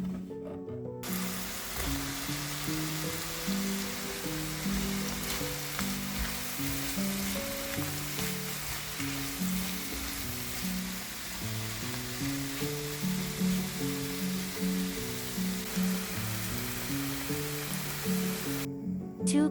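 Onions and mushrooms fry in a pan with a continuous soft sizzle and crackle, joined by occasional stirring scrapes, moderately quiet and close with no talking.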